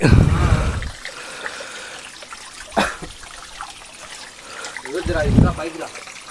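Water from a stream on the way to a waterfall trickles and flows steadily in the background while voices speak briefly at the start and again near the end.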